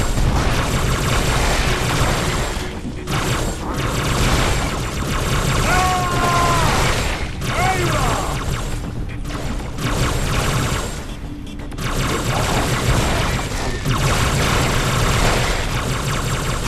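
Dual plasma rifles firing in Halo 3 on the Halo mission, rapid bursts of energy-weapon fire layered with booms and dense battle noise, continuous and loud without pauses.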